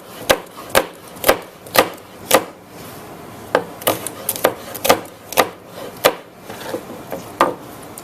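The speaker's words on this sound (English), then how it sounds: "We just want it to be bite-sized because you don't want to bite into a huge piece of pepper" Knife chopping bell peppers into bite-sized pieces on a wooden cutting board: a run of sharp, close, evenly spaced thunks, a short pause, then a quicker second burst of cuts, with no talking.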